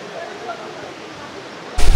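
Langlok waterfall in Bandarban, Thanchi, rushes as a steady, moderately quiet broadband roar, then swells abruptly louder in the final moment.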